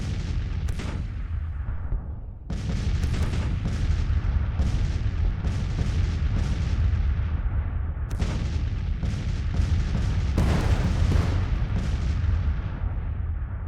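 Civil War artillery in Grand Tactician: The Civil War, a long barrage of heavy booms, several close loud blasts rolling over continuous rumble, with distant shots between.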